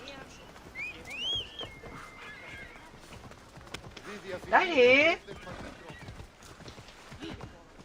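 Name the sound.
horse galloping in Assassin's Creed Odyssey video game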